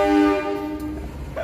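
Logawa passenger train of the Indonesian railway running, with steady horn-like tonal bands sustained over a continuous rumbling rail noise, loudest at the start and easing slightly.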